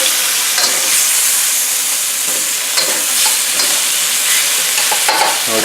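Meat and Hatch chili bubbling in a covered pan give a steady close hiss and sizzle with a few soft clinks and scrapes, constant and fairly loud throughout with no talking.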